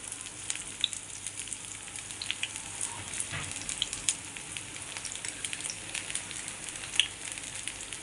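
Sweet corn kernels roasting in a hot pan, turned so both sides char, a steady soft sizzle and crackle with small pops scattered throughout, close and faint.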